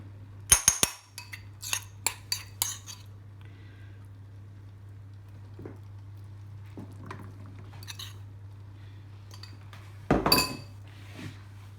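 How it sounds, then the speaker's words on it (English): Masala being spread around a pot for Hyderabadi chicken biryani, a few sharp clinks of a metal spoon against the pot, then soft scraping and squishing, and a final cluster of clatter over a low steady hum. "Just spreading the masala everywhere around so it spreads nicely"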